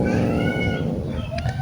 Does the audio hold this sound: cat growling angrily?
yes